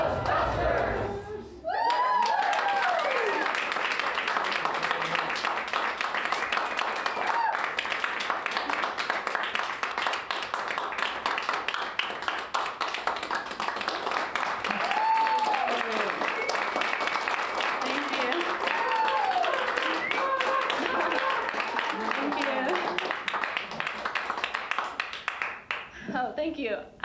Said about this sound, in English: Can we give another round of applause to our wonderful cast?